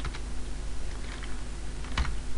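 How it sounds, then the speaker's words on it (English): Quick keystrokes on a computer keyboard as ipconfig is typed into a Windows 8 command prompt, a short run of soft clicks close by over a steady background hum, with no talk. "So what we type in is ipconfig"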